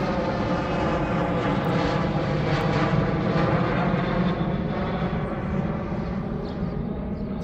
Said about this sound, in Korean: 아침 인사로 비행기가 소리내고 지나가고 있네요